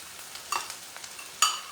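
Quinoa being added to a pot in a home kitchen, giving a few light, scattered clinks and soft rustles with a couple of sharper taps, close and fairly quiet, with no talking.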